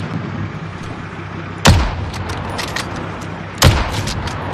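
Two sharp gunshots ring out in the video game Warzone, spaced about two seconds apart, each a loud close crack with a short tail over steady background rumble.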